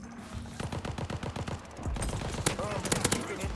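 Rapid bursts of Welgun submachine gun fire in Call of Duty Vanguard, loud and close, with a quick rattling rhythm and a few heavier shots and impacts near the end.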